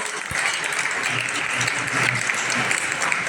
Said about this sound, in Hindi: एक बार जोरदार तालियों से महात्मा जी का स्वागत।